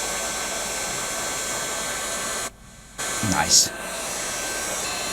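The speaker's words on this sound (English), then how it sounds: "We'll do that with a hot gun." A hot air gun blows a loud, steady rush of air while heating the circuit board of a 100W PIR motion-sensor LED flood lamp. It briefly cuts out and then resumes, and a voice speaks once.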